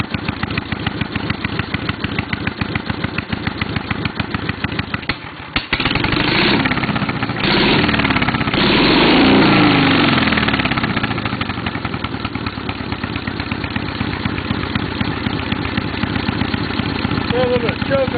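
A small engine idling roughly with a little choke on, a steady close chugging with a brief dip and then a fuller, louder surge partway through, and voices talking over it.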